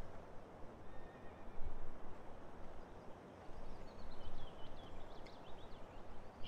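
Animated horses in a farming video game neigh and whinny over a steady ambient background, with a few short high whinnies standing out toward the end and no talking.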